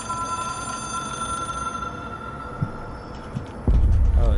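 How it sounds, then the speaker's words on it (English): Ringing telephone in the video game Control, a steady electronic ring tone sustained over a low hum, with a few dull thuds and a loud rumble entering near the end. "follow the sound of the phone calls."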